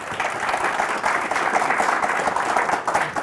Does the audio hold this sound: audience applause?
yes